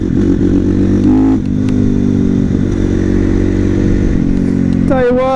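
A supermoto motorcycle engine drones steadily at close range while riding, holding a fairly constant pitch, with a quick rising rev near the end.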